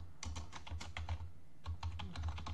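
Rapid keystrokes on a computer keyboard while a web signup form is filled in, two bursts of quick, close, clicky taps separated by a short pause, with no voices.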